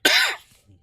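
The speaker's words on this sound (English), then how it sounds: "My apologies for the cough." A single sharp, close cough from a man streaming a PC game, loud and harsh at first and then fading quickly into quiet.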